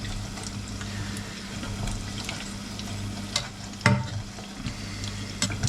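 Mackerel fishcakes sizzle steadily in a frying pan, a continuous close crackle with a few brief louder pops and scrapes, heard alone with no talking.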